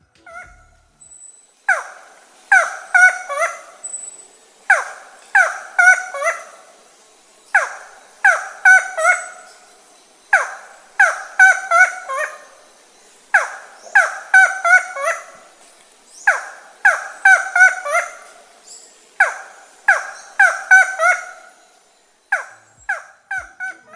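Field recording of a forest falcon (Micrastur), loud repeated series of harsh, rhythmic calls in bursts, close and alone over a quiet background.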